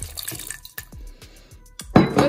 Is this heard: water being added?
yes